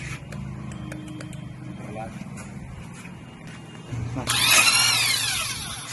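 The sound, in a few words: power tool tightening clutch nut on Yamaha FZ motorcycle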